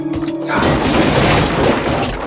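Something is smashed with a loud burst: a brief thump followed by a sustained crashing, shattering wash of noise that fills the remaining two seconds.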